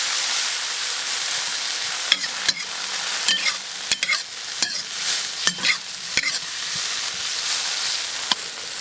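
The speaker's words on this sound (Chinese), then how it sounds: "加虾进来，加虾进来。 好，炒一下" Wild shrimp being stir-fried with chili peppers in a hot wok, a steady sizzle and hiss with repeated sharp scrapes and clanks of the spatula tossing the food, close and loud with no talking.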